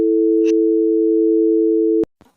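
A telephone busy tone after a call is cut: a steady, loud, unbroken electronic hum that cuts off abruptly, leaving a couple of faint clicks and rustles.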